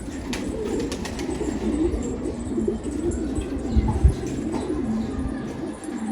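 Ink pigeons coo in a loft, a low steady murmuring of several birds close by, with occasional rustles and faint jangling in the background.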